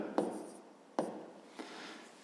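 A pen scratches across paper in three short, quiet strokes spaced about a second apart, jotting down a fifth-grade math equation.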